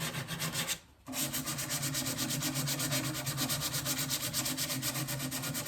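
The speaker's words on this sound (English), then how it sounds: "I'm stuck hand sanding because I can't get it in there without hitting up here" Steady hand sanding across painted wood on a century-old dresser, a continuous close rhythmic scratching that stops briefly near the start, then resumes evenly without talk.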